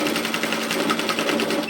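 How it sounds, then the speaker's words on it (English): Sewing machine stitching down the hem of a reusable fabric produce bag, a steady close mechanical whir and chatter running continuously on its own. "And then sew on down to the hemline."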